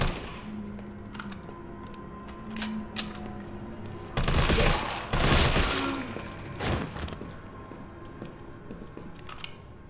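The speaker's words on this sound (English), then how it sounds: "this machine gun really makes things a lot easier than just a pistol" A machine gun fires in the video game Resident Evil 3 Remake, with two loud sustained bursts in the middle and scattered single shots and game effects before and after over steady background noise.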